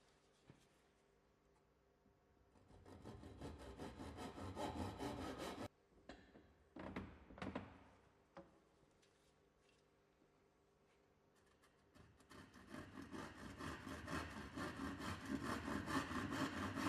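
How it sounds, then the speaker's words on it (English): A tenon saw cuts a wooden skirting board with a steady rasping back-and-forth that builds, breaks off into a few separate strokes and scrapes, then resumes, louder and continuous, close up. "Continue to use the tenon saw to make as many straight saw cuts as possible while rotating"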